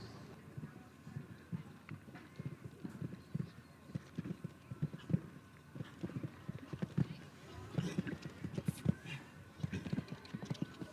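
Horse hooves clip-clopping at a show jumping event, rapid rhythmic thuds of a horse named Starbucks on course, heard under continuous commentary amid crowd ambience.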